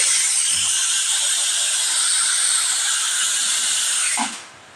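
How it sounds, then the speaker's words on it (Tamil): A pressure cooker whistle lets out a loud, steady hiss of steam that holds for several seconds, then cuts off abruptly. "குக்கர் விசில் வந்துருச்சு."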